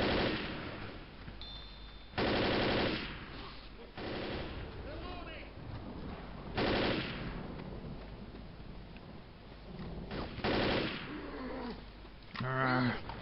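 Gunfire in the zombie shooter Left 4 Dead, with several loud bursts of shots at intervals amid game noise, while players talk over the action.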